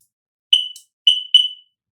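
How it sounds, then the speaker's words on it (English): Sea-Doo instrument panel beeping as the key is recognized: short high electronic beeps sounding alone in silence, the last two coming close together. "the instrument panel is giving the two beeps"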